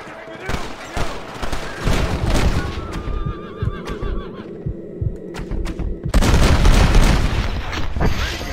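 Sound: gunshots in the video game Red Dead Redemption

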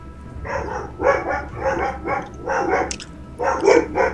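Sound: dogs barking

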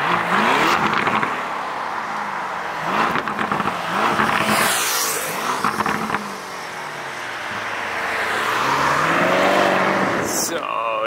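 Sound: car driving

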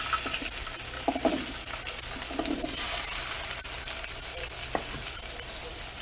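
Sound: sautéing vegetables in a pan

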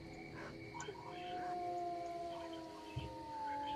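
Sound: dogs howling in the video game S.T.A.L.K.E.R

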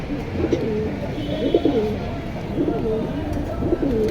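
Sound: pigeons cooing, a pair of pigeons for sale

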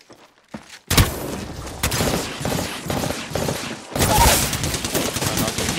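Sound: gunfire in a video game

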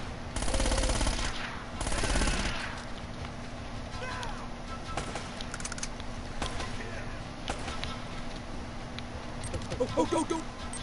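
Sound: gunfire in the Uncharted video game

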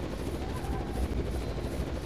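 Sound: helicopter arriving in video game Zettai Zetsumei Toshi 2

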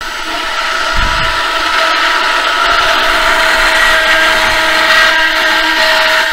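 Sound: stick blender mixing cold process soap

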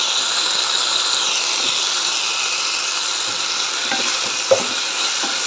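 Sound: sliced green chillies frying and being stirred in a pan

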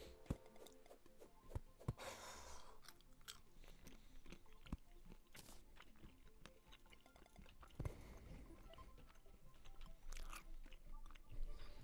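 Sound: loud lip-smacking while chewing food

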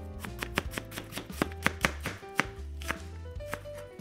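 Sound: slicing an onion with a knife

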